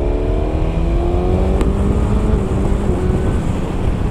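A car engine in third gear at maximum engine mode accelerates and revs, a loud, steady roar with rising harmonic tones that climb gradually over a few seconds.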